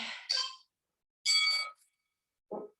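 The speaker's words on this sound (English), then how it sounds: "That triple bell means we are all done." A bright bell dings three times to signal the end of a HIIT workout of 60-second work and 30-second break intervals, with two rings close together, a short pause, a third ring, then a faint fourth tap.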